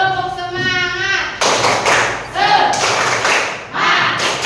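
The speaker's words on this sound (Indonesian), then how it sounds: "Tepuk semangat" A school group does a rhythmic spirit clap, sharp bursts of many hands striking together in a patterned beat, with voices chanting between the claps.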